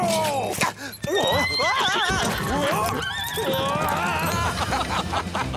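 Loud horses whinny repeatedly, close by, their neighs rising and falling over a busy commotion of hooves and movement in a cartoon ambush scene.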